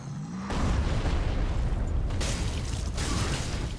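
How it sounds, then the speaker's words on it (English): A loud, sustained explosion rumble in Dark Souls III, a deep booming roar that sets in abruptly after a brief quiet moment and holds steady to the end, with crackling debris layered on top during a snowfield fight. "Explosion."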